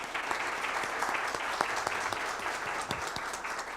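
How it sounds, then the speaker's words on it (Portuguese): Applause from the audience at a formal solemn session for Lawyers' Day, a quiet, steady patter of many hands clapping together in a large hall, with a few sharper claps standing out. "uma salva de palmas para a Francesca."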